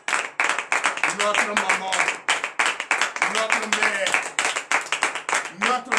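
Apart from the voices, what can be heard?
audience applauding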